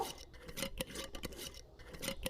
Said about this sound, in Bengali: শিল নড়ায় প্রথম লঙ্কা দুটো বেটে নিব